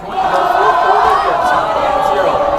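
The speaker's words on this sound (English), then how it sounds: "This Turner crowd is as loud as they've ever been." A dense, roaring home crowd at a high school varsity football game in Turner during overtime, loud and sustained throughout with a commentator's voice blended into the noise.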